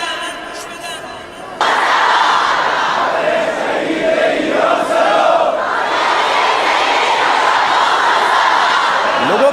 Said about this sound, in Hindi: लोगों की ये भारी भीड़ और शोर